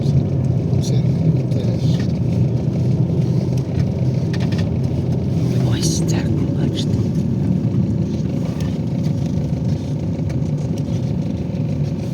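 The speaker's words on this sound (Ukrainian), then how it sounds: "Машини, машини, машини." Cars drive in road traffic on a town street on the way to a market, a steady, loud engine and tyre rumble that never lets up, with voices talking over it.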